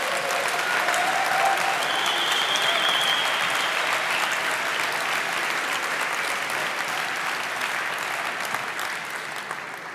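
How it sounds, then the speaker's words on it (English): An audience claps loudly and continuously at a hackathon award show, dense sustained applause from a large crowd with occasional cheers, tapering slightly at the end. "Give yourselves a huge round of applause."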